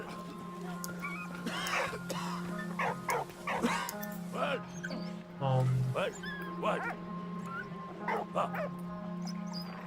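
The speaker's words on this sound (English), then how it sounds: "Okay, the dog cannot go there." A video game dog in Valiant Hearts gives short yips, barks and whimpers in bursts over a steady game hum, with someone briefly speaking.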